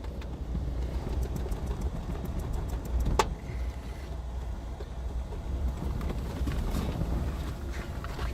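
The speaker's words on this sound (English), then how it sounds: "We have a 30 miles per hour wind right now." Strong wind of about 30 miles per hour buffets the microphone outdoors, making a steady, dense roar with low rumbling gusts and a few faint clicks throughout.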